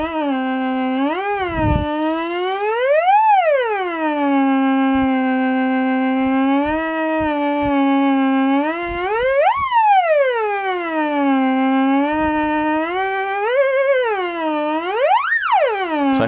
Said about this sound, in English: I wanted to see how two light-dependent resistors would sound in series instead of using just one